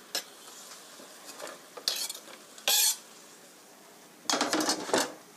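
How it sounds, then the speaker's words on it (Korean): Thinly sliced ingredients stir-fried with kimchi in a pan for kimchi stew, close spatula scrapes and clatters against the pan with a faint sizzle underneath, coming in short bursts. "얇게 채 썰어서 김치랑 같이 볶겠습니다."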